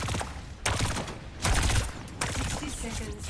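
Gunfire in a video game, rapid bursts of shots rattling in three close, loud clusters with a dense backdrop of game noise and faint voices underneath.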